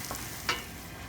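Ginger hits hot oil in a pan with a short, faint sizzle and a quick scrape of stirring, close by and without voices.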